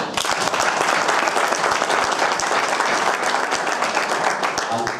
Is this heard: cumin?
no